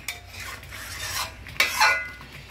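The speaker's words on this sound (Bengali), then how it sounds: "এই দেখুন আমি কষিয়ে নিচ্ছি।" Potato curry gravy being stirred and sautéed in a pan, with a few close, rasping scrapes of a spatula through thick masala that come in short bursts.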